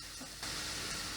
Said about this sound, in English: the garlic has had a minute to go ahead and start sauteing